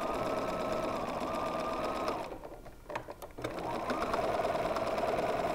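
A sewing machine stitches curved quilt pieces in a steady, continuous run, easing off briefly mid-way as it slows at the seam, then picking back up to full, even speed.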